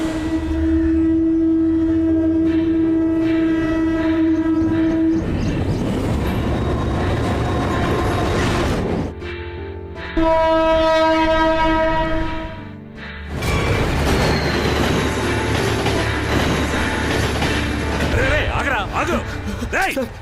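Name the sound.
train at Taramani railway station, Chennai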